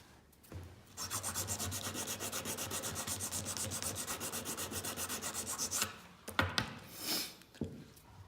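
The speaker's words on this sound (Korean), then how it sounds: "볼펜에다 사포를 말아서 가는 방법으로 어느 정도까지는 갈아주세요" Sandpaper rolled around a pen rubs the inside of a wooden ring in quick, even back-and-forth strokes for several seconds, close and alone, ending with a few looser scrapes and handling noises.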